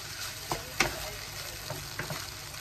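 Vegetable fried rice with soy sauce frying on high heat, a steady close sizzle with several sharp stirring scrapes and clicks of the spatula against the pan.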